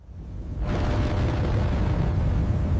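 A Su-35 fighter jet engine with 29,000 pounds of thrust erupts into a massive, sustained roar that starts suddenly and stays loud and steady, a broad rumbling blast with no pauses.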